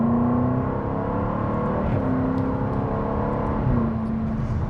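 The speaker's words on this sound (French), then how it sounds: "Et là, vous l'entendez, l'échappement sport s'est activé lui aussi." A Jaguar F-Type R with a V8 and active sport exhaust accelerates hard. The deep engine note rises steadily, with gear changes around two and four seconds, heard from inside the car.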